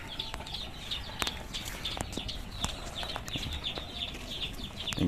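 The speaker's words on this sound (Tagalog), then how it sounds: "May manok dito na hindi lumalapit" Chickens being fed on a backyard farm cluck and chirp steadily, with occasional wing flaps and soft scratching, all fairly faint with no one talking.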